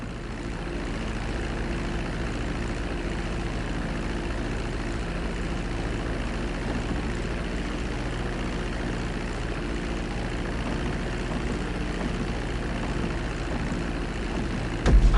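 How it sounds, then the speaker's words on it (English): A plane taxiing off the runway in GTA 5, its engine holding a steady, even propeller drone close by for the whole stretch, with a brief bump at the very end. "Now let's get the plane off the runway. Taxi over to the marked area and come to a complete stop."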